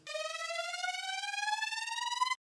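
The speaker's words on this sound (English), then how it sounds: "this synth riser," A rising synth tone sweeps steadily upward for about two and a half seconds in a house remix, a bright harmonic-rich build-up that stops abruptly at the top, heard alone and fairly loud.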